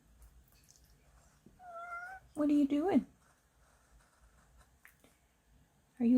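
Cat meowing indoors, a short soft mew followed by a louder rising-falling meow and another at the end, with a person speaking quietly between them.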